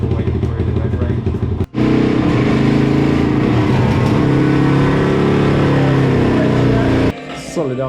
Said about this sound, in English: Going back on the dyno, it's running better.